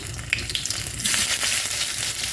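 Garlic sizzles in hot oil as a tempering for vendakkai puli kulambu, a steady close crackle that grows louder and brighter partway through as more goes into the pan. Nobody talks.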